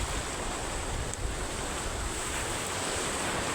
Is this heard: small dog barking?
no